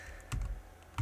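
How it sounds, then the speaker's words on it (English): A key press on a US-layout computer keyboard, the tilde key used to open the game console: a couple of brief, quiet clicks, isolated against faint background hum. "if you open the console, that's with the tilde key."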